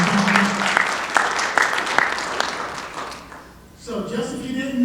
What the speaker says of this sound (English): can I get a round of applause for